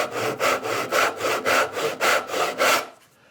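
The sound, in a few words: hand saw cutting wood along a knife wall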